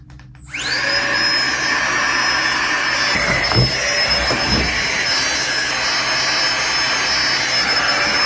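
A small electric pump starts abruptly and runs with a steady high-pitched whine and airy hum, loud and close, with a couple of brief thumps midway.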